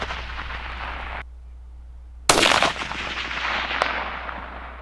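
A single sharp rifle shot cracks loudly mid-clip at an outdoor range aimed at a 385-yard target, followed by a decaying echo and quieter background noise.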